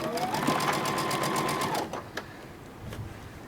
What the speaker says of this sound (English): Okay, we're going to do our 1/4 inch seam.